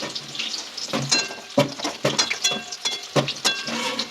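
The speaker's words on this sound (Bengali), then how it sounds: "এগুলো উল্টিয়ে পাল্টিয়ে একটু লাল করে ভাজতে হবে" Soybean chunks crackling in hot oil, with sharp clatters of being turned and stirred in the pan, close up.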